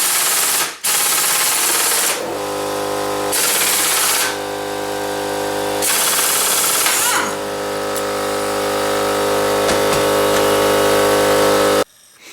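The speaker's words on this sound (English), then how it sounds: "I'm about to take off this bolt." Loud, rapid air-impact wrench bursts remove a bolt from a Yamaha SRX 600 snowmobile engine during a rebuild, several sharp rattling runs separated by brief pauses, then a long steady run close by.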